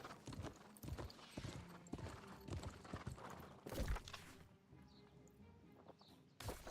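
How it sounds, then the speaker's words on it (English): Horse hoofbeats clip-clopping at a steady riding pace through a stone aqueduct in the video game New World: Aeternum, close and fairly loud, with a few heavier thuds and a brief pause near the end. "riding with my horse through the aqueduct"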